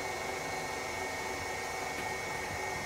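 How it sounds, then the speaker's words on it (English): A KitchenAid stand mixer beating butter and sugar at medium speed, a steady motor whine with constant buzzing hum, unbroken and moderately faint throughout. "I'm continuing to beat the butter and sugars together on a medium speed in the KitchenAid."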